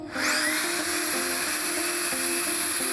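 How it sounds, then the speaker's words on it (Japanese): A Makita air duster blows loudly up close, drying a car after a wash with a high, steady whine and rushing air that builds quickly and then holds constant. "最後にマキタのエアダスター。"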